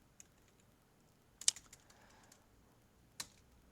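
A few sparse keystrokes on a computer keyboard entering an OSPF router command, quiet and close with a small cluster in the middle and one final key press, no talking.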